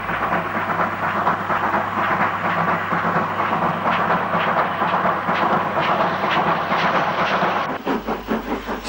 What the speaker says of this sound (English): 6971 Athelhampton Hall has a slower timed freight on the up line.